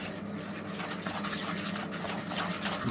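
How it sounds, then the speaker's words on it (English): Milk is whisked into Yorkshire pudding batter in a bowl, making a continuous wet, rhythmic swishing and sloshing at close range. "So now I'm just going to whisk this up"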